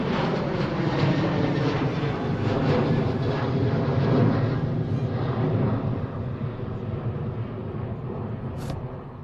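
A Ryanair airliner passes overhead at Manchester Airport with a loud, broad jet roar that holds steady, peaks midway as it goes over, then slowly fades as it moves away.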